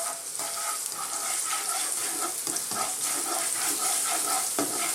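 Garlic and ginger fry in hot oil, giving a continuous bright sizzle with light crackles and soft stirring taps, close and steady with no voices.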